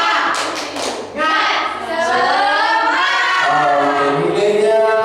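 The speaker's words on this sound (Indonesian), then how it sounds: "harimau, coba tepuk semangat" Schoolchildren in a classroom group chant together in a rhythmic clapping cheer, sharp hand claps at the start giving way to a sustained high-pitched sing-song chorus of young voices.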